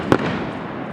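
A fireworks display at Chestertown, New York, with one sharp, loud explosion at the start, then a rumbling, crackling echo that trails off for the rest of the second.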